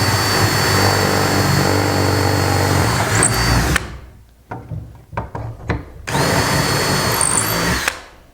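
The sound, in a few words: drilling holes with included drill bit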